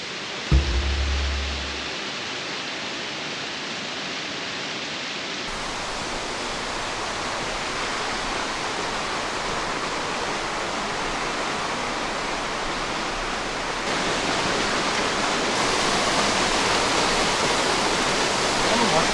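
A waterfall rushes as a loud, constant broadband roar at close range, steady throughout with a brief low thump near the start and no voices.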